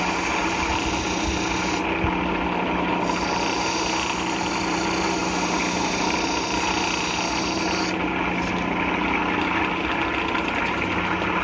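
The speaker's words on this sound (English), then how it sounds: "As you can see, this grinder is not real loud." A fairly quiet grinder knocks sharp edges off metal, a steady unbroken whirring hum that stays at the same level throughout, with no speech.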